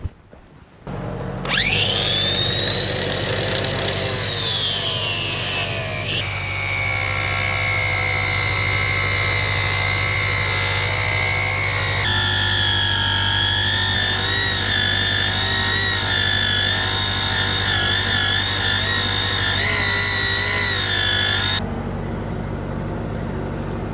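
An angle grinder cuts notches into steel for a John Deere 210LE quick coupler build, a loud, close, sustained whine that shifts pitch as the disc bites and eases, running about twenty seconds before stopping.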